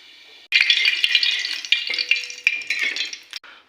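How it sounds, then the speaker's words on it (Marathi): Cumin seeds hit hot oil in a pan and burst into a loud, crackling sizzle that starts abruptly and continues with popping and a faint clink of a utensil. "तर तेल आपलं आता गरम झालंय, आपण त्यात जिरा टाकू."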